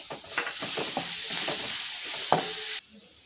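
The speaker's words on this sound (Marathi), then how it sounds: "आता यात टाकायचं आहे बारीक चॉप केलेला कांदा, मोठा कांदा घेतला आहे।" Finely chopped large onion hits hot oil for paneer bhurji and sizzles loudly and close, with stirring scrapes and clicks throughout, before the sizzle drops away abruptly near the end.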